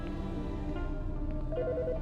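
A game telephone in Autopsy Simulator rings with a steady electronic tone over a low hum, the ring pattern repeating briefly near the end, no voices.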